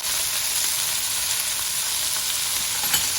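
Washed basmati rice fries in onion-flavoured oil with a teaspoon of salt, a dense, even sizzle that holds loud and steady throughout, with a small knock near the end.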